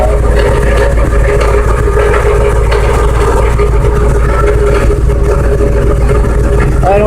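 A car's loose muffler rattles beneath a loud, steady engine hum at close range. The rattling runs throughout under the constant drone.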